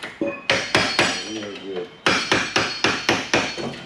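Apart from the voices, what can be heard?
hammering during Impala SS axle and posi install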